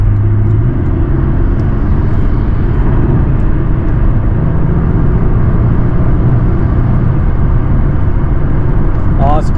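BMW 3 Series engine in sport mode, a loud, steady low drone of the engine under load from inside the cabin while driving, with a voice talking over it throughout.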